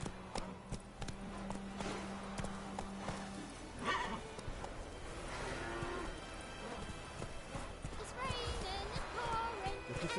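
Roach the horse in The Witcher 3 clip-clops at a walking pace with steady hoof falls, mixed with whinnies, farm-animal sounds, music and a voice speaking over the scene.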